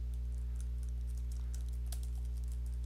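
Typing on a computer keyboard: light, irregular key clicks patter over a steady low electrical hum, with a few slightly louder taps standing out.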